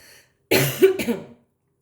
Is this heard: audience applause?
no